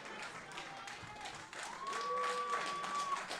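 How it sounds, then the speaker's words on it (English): A wrestling crowd applauds after a street fight, scattered clapping swelling in the second half beneath a commentator's voice, with a sustained tone ringing through. "Crowd giving Christian Darling a round of applause for his efforts as he makes his way to his feet"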